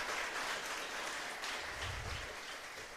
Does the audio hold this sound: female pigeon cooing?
no